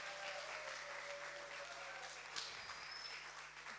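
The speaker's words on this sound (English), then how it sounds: "Please give her a round of applause." Faint applause from an audience at a film screening Q&A with cast and crew, a soft steady patter heard at a distance over a humming room background.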